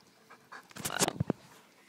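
Poodles pant quickly indoors, a short burst of close, breathy rapid huffs with a faint whimper, fairly quiet against a hushed room.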